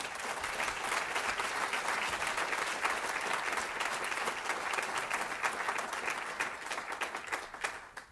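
Sustained applause from a large audience at a National MS Society chapter annual charity celebration, loud and continuous for the whole stretch before thinning out at the very end.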